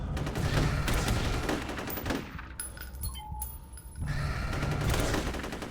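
Rapid bursts of automatic gunfire from the first-person shooter F.E.A.R., loud and sustained, dropping away for about two seconds in the middle before the firing resumes just as heavily.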